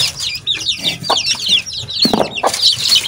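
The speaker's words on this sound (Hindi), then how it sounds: "अपनी मुर्गी को छोड़ते हैं।" Aseel hen clucking loudly and close as it is let out, a rapid run of clucks and squawks with scratchy fluttering between them.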